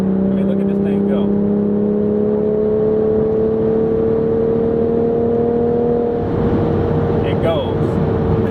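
A 2023 Toyota GR Supra A91-MT Edition with a manual gearbox pulls hard from inside the cabin, its engine drone holding a steady rising tone before a shift in pitch, with talk over the top.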